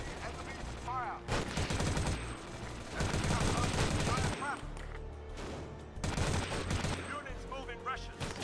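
Gunfire in the Xbox video game Battlefield 2: Modern Combat, with bursts of battlefield shooting that swell and fade in several waves while game voices speak over the combat.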